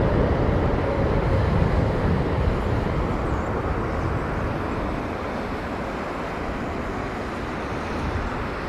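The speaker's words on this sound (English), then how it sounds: "it is very rare to see BA use so much reverser" British Airways airliner landing at Heathrow in gusty storm conditions, a loud broad roar of heavy thrust reverse that slowly eases, with wind noise and no voices.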